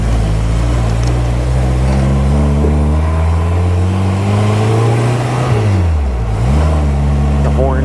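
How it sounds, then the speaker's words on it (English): Supercharged 1275 Austin-Healey Sprite Bugeye on a test drive, its engine droning steadily and rising in pitch, then dropping off and picking up again as gears change, close and loud with a voice speaking over it. "The supercharger on a 1275 engine is a really nice configuration"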